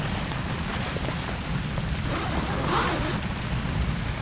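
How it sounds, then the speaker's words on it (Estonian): Shower running steadily, a dense close hiss of spraying water that stays loud and even throughout, with no speech. "Mõnus värskendav dušš muidugi turgutab alati."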